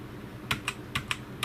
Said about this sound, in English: press the special Steelseries function key, which is this little Steelseries logo here, and press F6